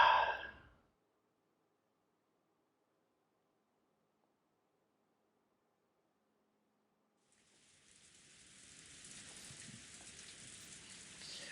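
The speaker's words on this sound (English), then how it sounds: "Is it the sound of the rain, or the sound of a waterfall, or could it be radio static?" Rain falls in the visual novel game Umineko. After a short burst of sound and a long silence, a soft, steady hiss of rainfall fades in and continues at low volume.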